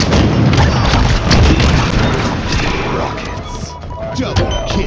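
Rocket explosions in a king-of-the-hill objective match of a multiplayer shooter game, a dense barrage of loud booming blasts and crashes over several seconds, with game announcer voice mixed in.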